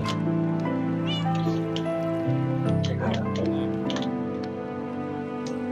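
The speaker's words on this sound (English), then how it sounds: "Where's my cat? I didn't put my cat upstairs." Meowing from a cat in the Minecraft video game, heard alongside background music and other in-game creature sounds, with a person talking over parts of it.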